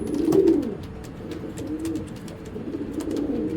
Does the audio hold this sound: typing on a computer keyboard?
no